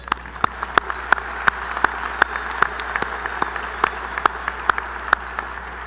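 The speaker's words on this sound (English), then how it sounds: "let's give them a round of applause." Audience applause at a university commencement ceremony, steady clapping from a large crowd with a few sharper claps standing out, filling the room without any talk over it.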